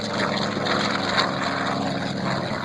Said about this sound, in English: as you watch the Avenger take off